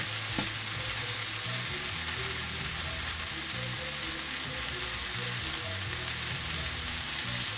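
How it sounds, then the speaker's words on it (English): Spicy sausage browns in a pan with a loud, dense sizzle and crackle, occasional scraping of a utensil stirring through the meat, continuous and close with no talking. "brown the sausage just a little bit. These are browning pretty quick"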